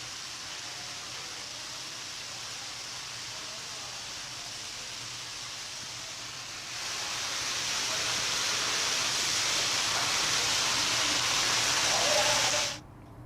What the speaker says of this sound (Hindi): तेजी के साथ पानी बह रहा है